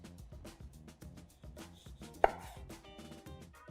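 A New West KnifeWorks 9-inch chef knife trims the root end of an onion on a cutting board, giving a quick series of close, crisp knocks against the board and one sharper, louder chop.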